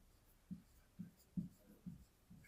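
Pen or pencil writing on a graph worksheet, five short scratchy strokes spaced evenly about half a second apart, close and quiet with no talk.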